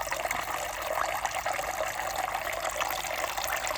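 Water trickling and splashing steadily from a tap or pour as soil is rinsed off a newt beside a plant pot, a continuous close running-water sound with no speech.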